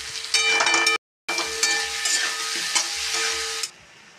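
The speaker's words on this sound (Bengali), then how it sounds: "ভেজে রাখা আলুটা আমি দিয়ে দেবো।" Fried potatoes tossed into spices of red chilli, cumin, coriander and turmeric in a hot pan, loud sizzling and frying with scraping stirs, broken by a brief silent gap before the sizzle resumes and then drops away near the end.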